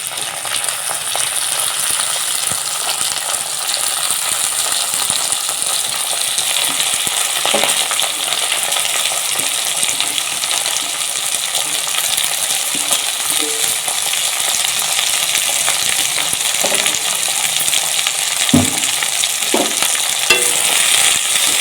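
Village-style ponnaganti leaf curry is stirred in a frying pan over a long stretch, giving a continuous close sizzle with scraping and occasional clicks and knocks from the spoon against the pan.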